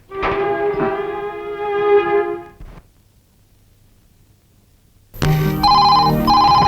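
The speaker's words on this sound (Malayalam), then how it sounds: "റാണി ഫോൺ എടുക്ക." A telephone rings with a harmonic electronic tone, a first ring burst, a pause of near silence, then a louder second ring.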